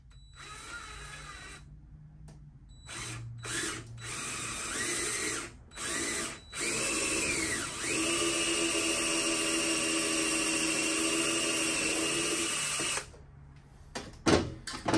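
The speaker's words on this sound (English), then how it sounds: "drill in a 3/16 hole," A power drill whirs in several short bursts, then runs steadily for several seconds while boring a 3/16-inch hole before stopping, close and loud.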